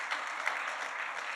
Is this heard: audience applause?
yes